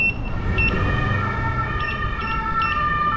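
A high, steady electronic beeping tone from a Begode Master Pro electric unicycle's warning alarm repeats over a constant low rumble of motion and wind, loud and close.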